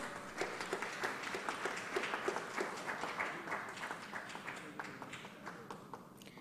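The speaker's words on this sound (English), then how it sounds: "Please put in a big round of applause." A conference audience claps in sustained, fairly even applause, heard from within the room at moderate volume, with a little background chatter.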